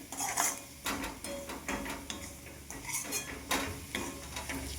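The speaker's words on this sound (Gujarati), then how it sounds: "આ મિક્સ થઈ જાય મસાલો 2 મિનિટ થોડું શેકાવા દેવાનું મસાલા સાથે." Spices with salt and coriander-cumin powder are stirred and roasted in a pan for green pigeon pea kachori filling, a spoon scraping and clinking against the metal in quick, uneven strokes.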